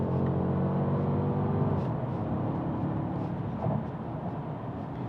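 Engine of a 2020 BMW 2 Series Gran Coupe or 2020 Mercedes CLA dropping a gear in manual mode, a steady low drone with a brief rise in revs midway, heard from inside the cabin.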